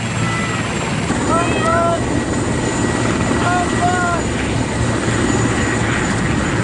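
A rescue helicopter flies low over treetops on a mountainside, its steady rotor and engine drone continuous and loud throughout, with faint bird-like chirps over the roar.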